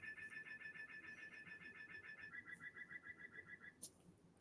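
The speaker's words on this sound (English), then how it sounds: "Of course, the bird clock goes." A kitchen bird clock chimes with a repeating electronic bird call, a quick run of steady chirping notes that shifts pitch partway through and ends with a short higher squeak, fairly faint against a quiet room.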